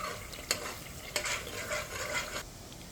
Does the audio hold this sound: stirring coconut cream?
yes